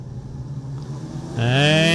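Wingless sprint cars at a speedway rumble low and steady for over a second before engines surge sharply, rising in pitch as the field accelerates for the race start, loud and close.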